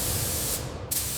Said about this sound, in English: The spray gun is moved methodically across the body,